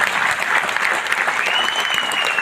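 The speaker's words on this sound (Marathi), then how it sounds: "जोरदार टाळ्या वाजवा सगळ्यांसाठी" Steady audience applause from a crowd at a live business meeting, dense and continuous clapping filling the whole moment without pause.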